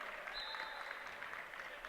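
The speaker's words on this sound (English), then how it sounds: "Jones is going to get some applause from his teammates." Basketball teammates on the bench applaud a player during a Snow College versus Central Arizona men's game, steady clapping under a broad crowd wash for the whole stretch.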